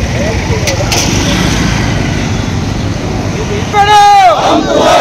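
A crowd celebrates loudly outside the Nationalist Congress Party office in Solapur, a dense roar of voices over passing traffic, then a sharp collective chant rises near the end.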